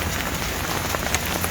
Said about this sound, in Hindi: ये तेज़ बारिश है